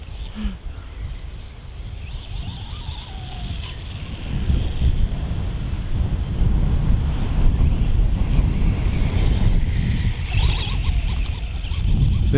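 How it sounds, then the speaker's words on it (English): Gusty wind buffets the microphone outdoors at a flying field, a low rushing roar that swells louder after a few seconds and stays strong. "but it's so windy today."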